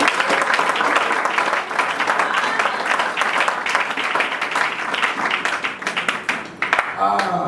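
A church congregation applauds to acclaim the king of glory during a worship service: steady, dense clapping fills the room, with a voice speaking over it.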